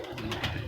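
A prize-winning racing pigeon hen coos once, a brief low murmur heard close against a noisy loft background.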